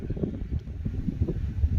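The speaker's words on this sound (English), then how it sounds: "it's getting a little windy out here" Wind gusts roar steadily across a lake by a fishing dock, a low buffeting rumble on the microphone that rises and falls continuously, with no one talking.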